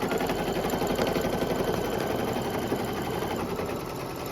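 An embroidery machine stitches out a Halloween neighborhood house design, a steady, fast mechanical whirring with a rapid needle rhythm that runs continuously and evenly throughout.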